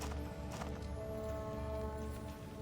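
Horse hoofbeats clip-clop steadily in the Ultima Online game, with a neigh near the start, over a sustained tonal game music bed at moderate level.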